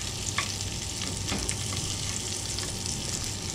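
Onions frying in toasted sesame seed oil give a steady, dense sizzle throughout, with a few faint stirring scrapes and no talking.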